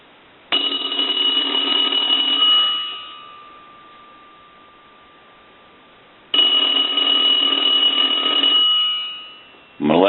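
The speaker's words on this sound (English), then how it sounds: "I'm going to wait for a ring cycle, and I'm going to turn on the bell." An electromechanical desktop payphone bell rings in two long bursts of about two seconds each, loud and close, with a pause between them.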